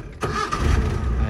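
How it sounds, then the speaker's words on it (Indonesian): A 1978 car engine cranks and catches, then settles into a rough, steady idle close by, all within a moment. "Gue nyalain ya mesinnya. Nih, jadi on dulu. Kemudian start engine."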